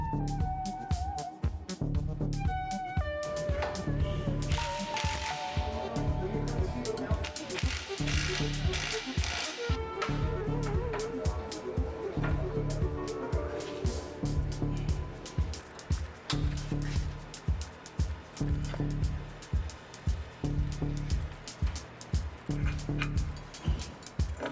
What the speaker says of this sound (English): My half-inch stubby, or Milwaukee the Stallion Jr., really gets put to work on these suspension jobs.